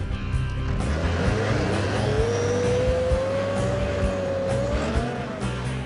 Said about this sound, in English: This thing just does a huge burnout and then spins around in circles.